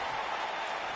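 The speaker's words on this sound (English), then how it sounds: "This capacity crowd is beside itself." A capacity arena crowd in the WWE 2K19 wrestling video game roars and applauds in a steady, dense wash of noise, with no commentary heard over it.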